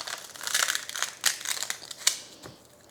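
Sushi sheets folded in half and broken apart by hand, giving a close series of dry, crisp crinkles and snaps with a few sharper cracks.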